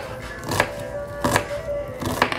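A kitchen knife cuts an onion into strips for meatloaf, with three crisp chopping strokes spaced about a second apart against a cutting board and no talking.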